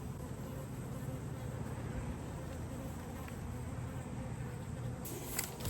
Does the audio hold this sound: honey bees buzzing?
yes